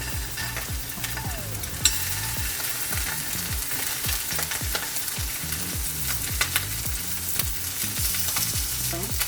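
Shrimp frying in hot cooking oil in a pan, a loud continuous sizzle with crackling splatter pops and rhythmic scraping strokes of a utensil stirring throughout.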